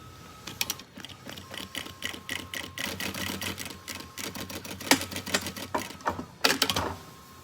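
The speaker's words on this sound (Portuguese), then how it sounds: "Vamos fazer agora a toda a volta uma costura à beirinha, costurando a toda a volta para prender o sintético ao forro." A sewing machine runs a seam around the edge, stitching synthetic fabric to a school backpack's lining. Rapid mechanical ticking comes in close bursts and short runs, with brief pauses between.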